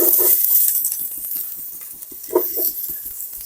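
Onions are tipped into hot oil in a frying pan for egg dum biryani, then stirred. A steady close sizzle runs underneath while the spoon scrapes against the pan in a rough rhythm.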